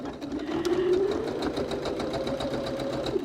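Sewing machine running a short back stitch on a cylindrical case project, a fast even needle clatter with a faint motor whine, close and alone.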